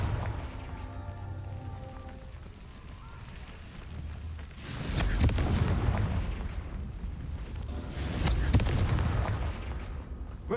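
Confringo blasting spell from Hogwarts Legacy goes off in two heavy bursts of explosive rumble and crackle, each swelling and lingering, after a quieter stretch with faint tonal game ambience.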